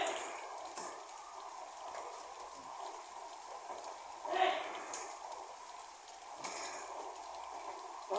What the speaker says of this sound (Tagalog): Bakit ang ulan bigla eh?